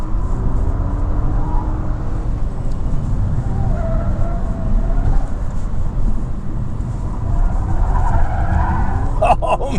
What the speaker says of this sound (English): this car, it's just so easy to drive quickly